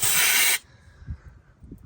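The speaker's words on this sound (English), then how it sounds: "Quick spray." Aerosol parts cleaner sprays in one brief, loud hissing burst into the ABS speed sensor hole of a 2013 VW Passat, then cuts off to quiet shop background.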